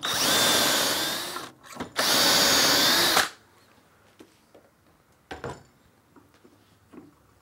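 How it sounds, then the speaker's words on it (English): A power drill bores dowel holes into wood through a Dowelmax jig, two loud sustained bursts of drilling with a short pause between, followed by quieter handling clicks and knocks. "Tighten as before and follow the same procedure of drilling."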